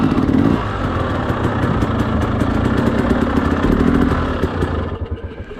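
A 2016 Husqvarna TE250 two-stroke dirt bike fitted with a Lectron Billetron38 carburetor runs loud and close, with a sustained raspy engine note that eases off toward the end.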